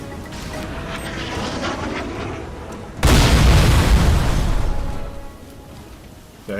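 A SAM site blown up in a PC video game: a sudden deep, loud explosion bursts in midway and rumbles for a couple of seconds before fading, after a quieter mechanical background.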